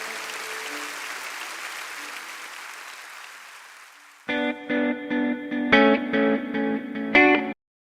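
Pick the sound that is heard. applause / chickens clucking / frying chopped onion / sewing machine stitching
applause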